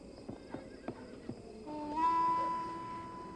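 A horse lets out a loud, close whinny, preceded by several sharp hoof clops on the ground.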